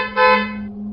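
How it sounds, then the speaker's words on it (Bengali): A cartoon car horn honks behind a motorbike, a single short, loud, brassy blast that cuts off sharply over a low steady drone. "পেছন থেকে একটা গাড়ির হর্নের আওয়াজ পেল।"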